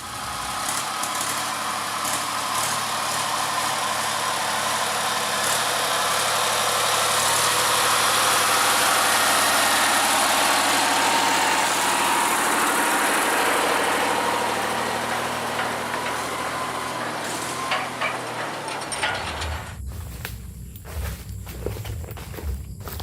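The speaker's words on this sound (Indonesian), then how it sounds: "Lokomotif nomor 7 membawa lori bermuatan ram dari arah utara." Sugar mill locomotive no. 7 on the Semboro factory lorry line, hauling loaded cane wagons, rumbles loud and steady for about nineteen seconds before the engine noise cuts off sharply, leaving a quieter stretch with scattered knocks.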